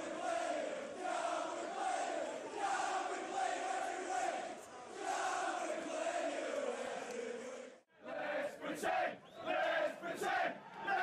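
A large Bradford football crowd chants in unison, a loud continuous roar of many voices that breaks off briefly and resumes in rougher, pulsing bursts.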